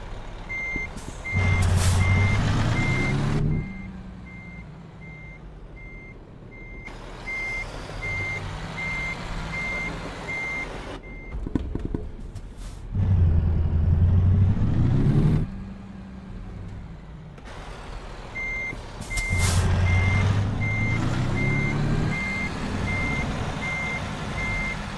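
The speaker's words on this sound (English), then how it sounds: "I think what I need to do is just back it up all the way now" Truck reversing alarm beeping in a steady repeating pattern while backing a trailer in American Truck Simulator, recurring in three bursts over the low rumble of the engine, loud and close.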